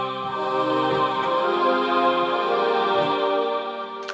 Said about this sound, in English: Lush Choir sounds like this.